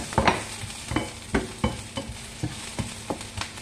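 Onion sautéing in olive oil in a pan: a soft sizzle broken by a series of rhythmic scraping stirs, roughly two or three per second, close and fairly quiet, with no voices.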